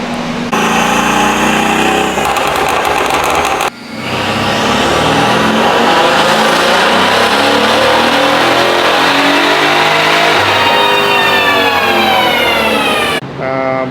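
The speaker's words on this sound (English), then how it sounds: "Let's just get this car rolling and then see what it makes on the first dyno pull." A modified Mercedes SL63 AMG with upgraded turbos, downpipes and water-meth injection revs hard on a dyno, climbing steadily through a long, loud full-throttle pull, with a brief gap near the start before the roar resumes and fades out.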